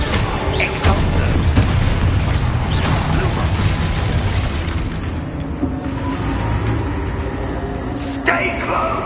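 A loud, booming blast from the Exposo explosion spell in a Hogwarts wizarding video game, filling the scene with sustained rumbling, crackling debris and combat clatter, while a voice shouts briefly over the din.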